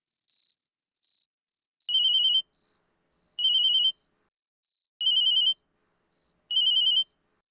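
An electronic phone ringtone repeats in four short bursts, evenly spaced, with a faint steady chirping tone in between.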